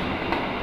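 Aboard the Sancaka train between Yogyakarta and Surabaya, the dining car carries a loud, steady rumble of the running train, with a broad roar of wheels and rail noise throughout.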